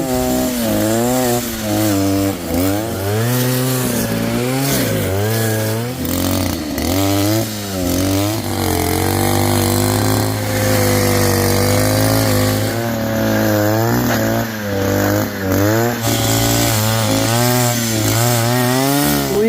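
A REAIL 52cc two-stroke grass trimmer runs loud and close, its engine revving up and down repeatedly in waves, with no talking.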